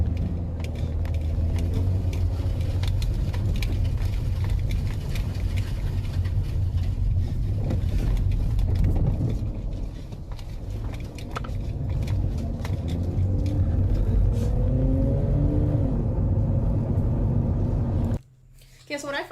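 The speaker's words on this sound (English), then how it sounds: "you can hear it revving up to do the blue light. Yeah. Like, it starts building up like a buzzing sound." A video game machine revs up, its mechanical, creaking drone building into a buzzing hum before it fires a blue light, loud and continuous with a brief cutout near the end while people talk over it.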